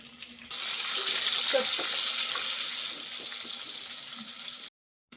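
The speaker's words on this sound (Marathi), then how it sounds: "मी दोन कांदे घेतलेले छोटाले आणि एक मोठं टोमॅटो घेतलेलं आहे त्याला छान असं एकदम लाल होईपर्यंत परतून घ्यायचं" Two small onions and a large tomato fry in a pan, a steady loud sizzle rising abruptly after a moment and continuing unbroken with occasional clinks of stirring, then cutting off to silence near the end.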